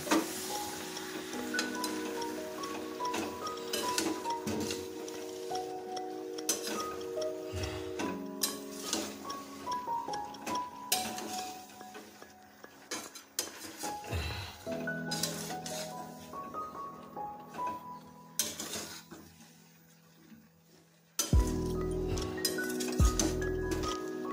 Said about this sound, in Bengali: এখন এটাকে আমরা মিনিট 5 ধরে কষাতে থাকবো।